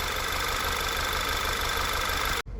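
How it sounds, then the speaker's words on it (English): Audi 2.0 TFSI engine running steadily up close, a dense continuous mechanical drone that cuts off abruptly near the end, with no talk. "I pulled it outside and gave it a couple quick revs, and the exhaust is butter smooth now."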